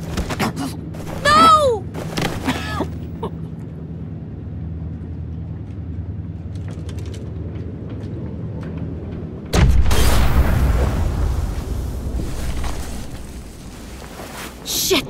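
A bomb blows up in The Walking Dead Final Season, a sudden loud broadband blast about two-thirds of the way in that rumbles on for several seconds after quieter ambience and a brief shout.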